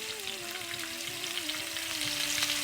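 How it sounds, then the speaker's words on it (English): Potatoes fry in a pan over a low flame with a steady, close sizzle and faint stirring, continuous throughout. "I can just put these potatoes slowly so you don't get burned"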